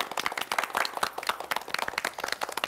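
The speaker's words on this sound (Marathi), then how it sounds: "एकदा तुमच्यासाठी जोरदार टाळ्या." Clapping and applause from a studio audience for game-show contestants on a Marathi TV program, a dense, steady patter of many hands lasting throughout with no voices over it.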